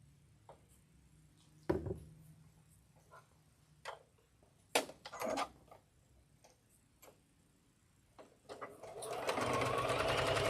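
A home sewing machine stitches in short, uneven bursts with brief pauses between runs, then a longer continuous stretch near the end. The sound stays close and fairly quiet, with a faint voice now and then.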